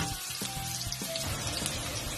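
Ginger and garlic fry in a pan with a steady close sizzle and crackle that stays even throughout, joined by a few soft tonal background sounds.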